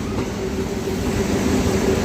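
A passenger train running from Secunderabad to Siddipet, heard from on board as a loud steady rumble of wheels and carriage noise with a faint rhythmic clatter, no voices.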